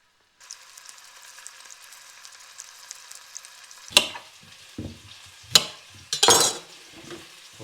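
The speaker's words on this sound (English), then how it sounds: "put my beef olives into the pan and brown them up" Beef olives brown in hot oil in a pan, giving a soft, steady sizzle punctuated by a few sharp clanks and scrapes of a utensil against the pan, heard at a camp kitchen with no talking.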